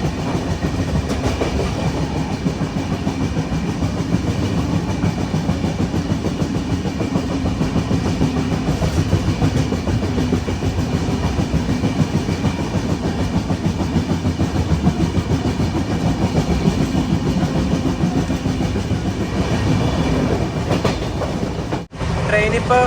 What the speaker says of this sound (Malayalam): ട്രെയിനിപ്പോൾ 120 km/h സ്പീഡിലാണ് പോയിക്കൊണ്ടിരിക്കുന്നത്.